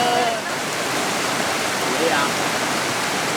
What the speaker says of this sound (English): Across the creek.